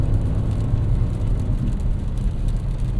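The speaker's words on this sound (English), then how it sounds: "Downshift a couple times" A BMW M5 engine in manual mode downshifts on a rainy road, giving a loud, steady low rumble with rising revs that persists throughout, and no voices.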